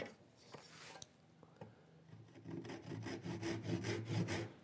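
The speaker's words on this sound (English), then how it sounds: "Tenon saw now. So I cut very close to my line in my case." Tenon saw cutting close to a marked line in wood while making a dovetail template, heard as quiet scattered taps giving way to a steady, rhythmic rasp of back-and-forth strokes that grows louder toward the end.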